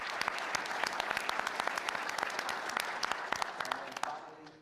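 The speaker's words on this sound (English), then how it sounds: "So we should give Michaela a round of applause for creating that big idea." An audience at an engineering meeting claps with sharp, distinct handclaps in a dense, even burst of applause that continues for several seconds and then thins out at the end.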